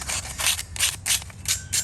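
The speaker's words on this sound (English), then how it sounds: "it doesn't really need a lot of sanding for it, just something light" Light, rhythmic sanding strokes on a rusty, corroded iron plant stand, about six short rasping passes in quick succession, close and alone.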